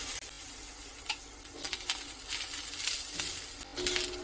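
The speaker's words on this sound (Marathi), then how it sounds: "ओलं खोबरं पण आपल्याला छान असं लालसर होईपर्यंत भाजून घ्यायचं आहे" Fresh grated coconut is dry-roasting in a pan until reddish. It gives off a soft, steady sizzle with occasional stirring scrapes and faint crackles, heard close and alone.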